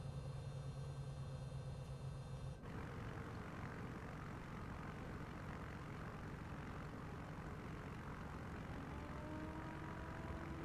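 A Bonanza propeller plane in Microsoft Flight Simulator 2024, a steady loud engine drone and propeller roar that continues throughout, with a brief tonal whine fading out early on.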